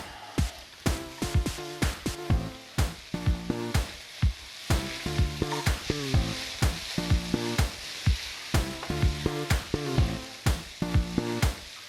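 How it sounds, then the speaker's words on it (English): Diced carrots and potatoes go into a hot pan, a sizzle that stays under a string of sharp, regular clatters and scrapes from the pan and utensil, close and fairly loud, with no voices. "Jules, I'm going to get you to throw in those sensationally diced carrots and spuds"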